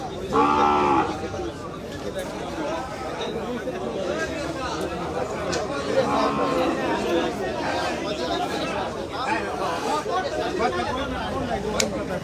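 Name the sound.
cows mooing at a cattle market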